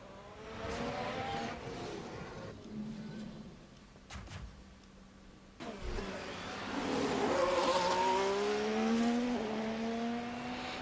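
A race car brakes hard in the F1 Manager 23 video game, with a high engine whine that drops in pitch as it slows, followed by a louder, denser burst of car engine noise in the second half.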